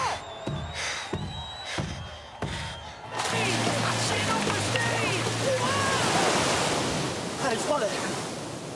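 Atlantic ocean waves breaking on the beach at Seignosse, a sustained loud roar of surf that swells in after a few seconds of choppier, broken sound and then rumbles steadily without talk.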